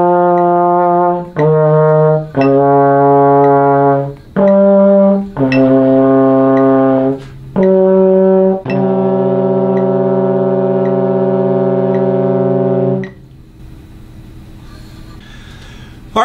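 Trombone and baritone play a series of loud, close brass notes, several short ones separated by brief gaps and then one long held note lasting about four seconds before it stops.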